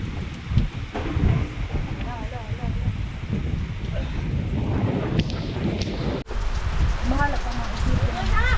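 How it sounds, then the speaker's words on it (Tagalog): Heavy rain pours down in a steady, dense roar that runs through the whole stretch, with excited voices talking and shouting over it. "Ang lakas ng ulan!"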